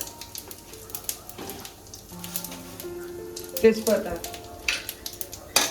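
Whole cumin, bay leaf and dry red chilli sizzle in hot oil while tempering for paneer korma, a steady close crackle with scattered pops and a faint tonal hum behind.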